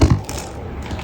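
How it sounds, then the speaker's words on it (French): A clattering knock and rattle of a camera tripod knocked over by a cat, loud at first and then settling into faint shuffling noise. "On remercie le chat gentiment d'avoir fait tomber le trépied."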